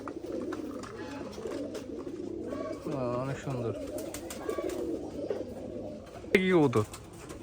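Giribaj pigeons at an old pigeon farm give repeated throaty coos, some loud and close, with a sharper call near the end, while people talk nearby throughout.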